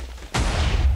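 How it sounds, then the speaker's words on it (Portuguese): Explosions in the Minecraft video game set off while mining out an area for ores: a sudden loud blast at a third of a second that hits with a deep, sustained boom and rumble to the end. "Ok, estas explosões são fortes."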